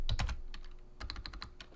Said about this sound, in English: I'm really bad at typing on this keyboard